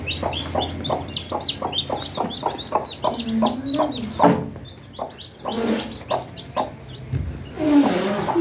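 A hen clucks close and loud in a quick run of short, evenly spaced clucks, then pauses and clucks again, with high chick-like chirps scattered above.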